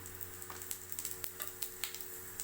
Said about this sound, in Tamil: எண்ணெய் காஞ்சிருச்சு கொஞ்சம் ஜீரகம் போட்டுக்கலாம்